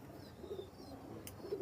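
Pakistani high-flying pigeons give a few soft, low coos, faint and close, with a brief chirp between them.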